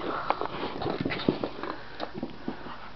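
A small dog sniffs and snuffles eagerly while chewing at a pair of eyeglasses indoors, short quick sniffs and soft clicks scattered through the moment, close and fairly quiet, with no talking.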